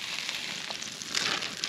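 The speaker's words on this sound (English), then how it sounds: "So you want to have a preheated saucepan, frying pan, chuck in a bit of butter." Butter hisses in a preheated frying pan over a fire, a steady close sizzle that grows slightly louder toward the end, with no talking.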